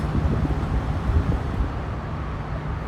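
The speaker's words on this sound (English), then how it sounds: "Oh yeah, the wind is starting" Wind picks up outdoors at a truck loading area during a tornado warning, a steady low rumbling buffet of air against the microphone with no speech.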